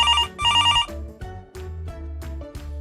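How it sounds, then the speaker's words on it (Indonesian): A telephone rings in bright repeated electronic trills, loud and close, followed by a low melodic tone pattern with regular pulses. "seperti sebuah panggilan telepon yang berbunyi"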